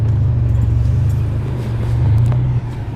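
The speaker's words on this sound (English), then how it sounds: "Sorry about the road noise in the background again" Steady low rumble of road and tyre noise inside a moving car during errands, continuous and fairly loud for the whole stretch, with no talk over it.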